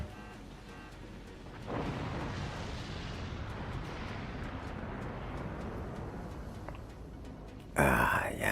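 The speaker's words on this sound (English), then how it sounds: "Lots of kaboom all around." In the real-time strategy game Forts, explosions and artillery fire merge into a sustained, heavy rumbling barrage that runs for several seconds, then a sharper, louder blast bursts in at the end.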